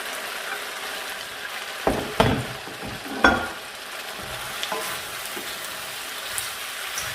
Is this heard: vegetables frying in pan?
yes